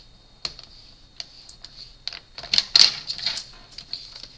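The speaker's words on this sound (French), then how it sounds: "on va marquer les plis entre les deux traits de coupe qu'on vient de faire" Paper being scored along fold lines for a pop-up scrapbook card, giving sparse, sharp ticks and scraping strokes close by, growing busier and louder toward the middle before trailing off.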